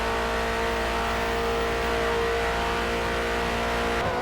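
A Ford GT40 Mark II race car in a Le Mans racing video game, its engine droning loud and steady at high revs for the whole stretch, no speech.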